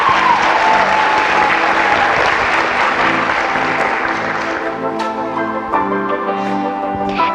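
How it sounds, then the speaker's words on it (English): A large audience at the 2016 Glass Queen pageant breaks into loud, sustained applause that fills the whole stretch, thinning slightly toward the end as some individual claps stand out. "one more round of applause for our 2016 Glass Queen, Emma Prince."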